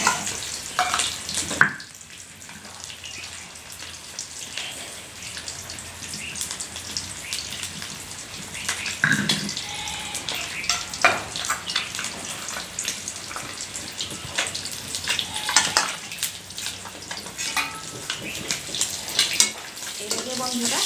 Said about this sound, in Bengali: এইভাবে বন্ধুরা ডিম ভাজাটা হয়ে গেছে